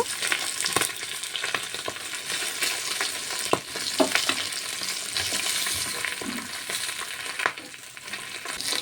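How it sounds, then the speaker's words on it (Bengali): Rohu fish pieces frying in hot oil in a kadhai, giving a steady loud sizzle throughout with scattered sharp crackles and pops and occasional stirring scrapes, with no voices. "মাছগুলোকে লাল লাল করে ভেজে নেব।"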